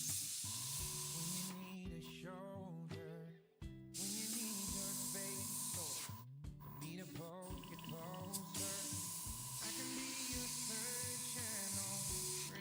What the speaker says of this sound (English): we're going to be airbrushing black on black first